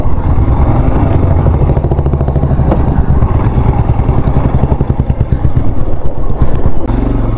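Off-road motorcycle ride in the Himalayan Spiti Valley, between Chandratal and Koksar: a loud, steady engine drone runs close and continuous throughout, with rough rumbling from the terrain and no clear talk.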